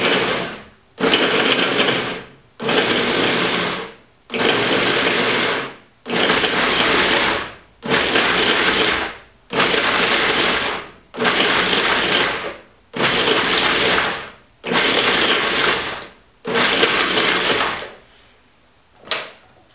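A blender with its lid on pulses allspice, kosher salt and other curry spices for a Jamaican pork curry: about ten loud whirring bursts of roughly a second each, separated by short silences, close up.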